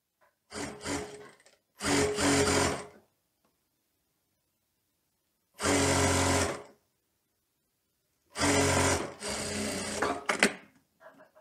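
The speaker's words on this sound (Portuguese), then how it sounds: "agora você vai costurar toda a parte da vista da frente" A sewing machine runs close and loud, stitching the front facing of a teddy coat in four separate bursts, each lasting about one to two seconds, with quiet pauses between them and no voices.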